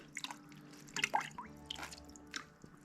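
Water drips and trickles from squeezed, washed muskrat pelts during tanning: scattered close splashes and wet squishes at an irregular pace, with no talking.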